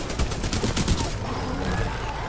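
Shotgun blasts in the video game Titanfall 2, a quick run of sharp booming shots in the first second, then fading into game noise and faint talk.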